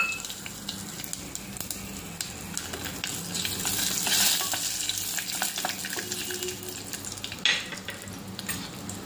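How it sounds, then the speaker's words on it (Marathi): Whole spices and cashews fry in a pot with a steady, loud sizzle and crackle throughout, with occasional stirring scrapes and a brief louder burst near the end. "काजू टाकून घ्यायचे आहे"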